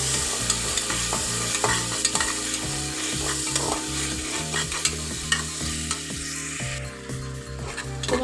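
Onions and spices for chicken kacchi biryani are stirred in a sizzling frying pan, with steady loud frying and a repeated rhythmic scraping of the utensil across the pan, close up with no voices.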